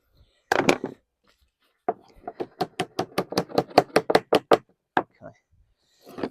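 Lead flashing on a double chimney knee is knocked up with a tool, one quick double strike followed by a rapid run of about a dozen sharp, close, evenly spaced knocks and a few scattered taps.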